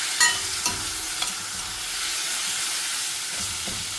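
Tomatoes with turmeric and spices fry in a pan for a green peas and palak curry, giving a constant close hissing sizzle broken by a few light stirring knocks, no talking.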